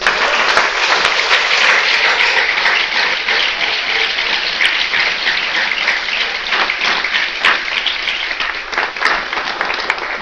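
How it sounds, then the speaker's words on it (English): A large commencement audience gives a loud, continuous round of applause for the committee and staff, a thick, even roar of clapping lasting about ten seconds. "We give them a round of applause, please."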